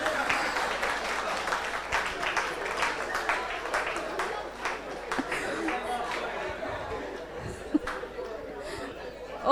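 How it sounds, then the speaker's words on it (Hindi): A gathering claps at a Deepavali celebration in a retreat centre, with a dense, continuous patter of hands running throughout. Crowd chatter and a little laughter sit underneath. "और ही खुशी से ताली बजाइए अभी।"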